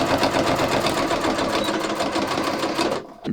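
Sewing machine runs fast and steady, stitching Velcro onto a non-stretch pants waistband, a close, continuous mechanical rattle that stops abruptly near the end.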